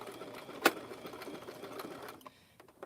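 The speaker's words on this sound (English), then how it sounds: "Back stitch." A sewing machine runs briefly while back stitching a rope basket, a quick continuous mechanical whir with one sharp clack early on, heard up close and fairly quiet before stopping.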